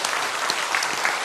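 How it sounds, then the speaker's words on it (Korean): A church congregation bursts into dense, sustained applause for God's glory after a sermon on missionaries, steady, broad clapping filling the room with no pauses. "하나님 영광의 박수 돌립시다."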